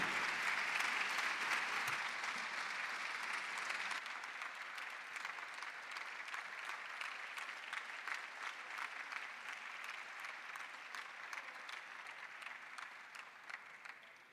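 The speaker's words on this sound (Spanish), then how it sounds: "Brindamos un muy fuerte aplauso al maestro Juan Falú." Sustained audience applause for maestro Juan Falú at a university honorary doctorate ceremony, a dense, even wash of many hands clapping from a large crowd, slightly stronger at the start and tapering gently toward the end.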